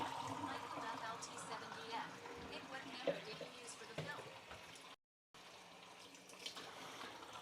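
Running water rinses 35mm film during development, a continuous splashing and trickling, with a person talking over it and a brief dropout near the end.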